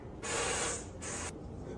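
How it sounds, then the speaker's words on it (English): Two hissing bursts of aerosol avocado oil cooking spray, a longer one then a shorter one, close by over faint background noise. "And then I give a little more spray"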